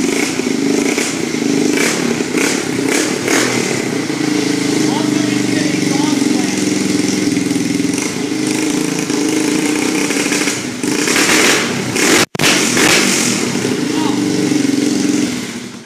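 An ATV or dirt bike engine with a loose exhaust runs loud and close, its rough clattering idle rising in repeated throttle blips, with a brief cut near the end and talking over it.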